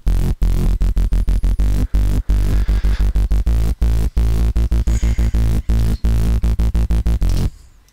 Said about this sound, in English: the last one is this bass. It is following the bottom line of the melody.